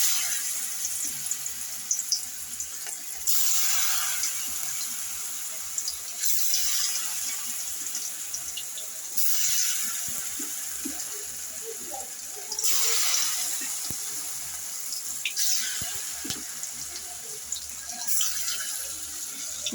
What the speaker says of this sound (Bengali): বন্ধুরা দেখুন, বড়াগুলো ভাজা হচ্ছে।